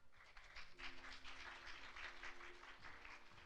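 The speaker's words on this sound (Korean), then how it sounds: "여러분 박수 부탁드립니다" An audience applauds at a traditional medicine conference as a Malaysian health ministry director is introduced, with sustained, even clapping from a hall crowd at moderate level.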